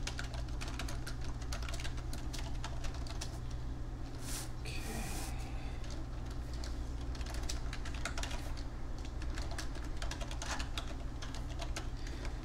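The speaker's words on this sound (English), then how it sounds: "I'm going to type it in." Steady typing on a computer keyboard, quick irregular key clicks running throughout under a constant background hum, fairly quiet and close.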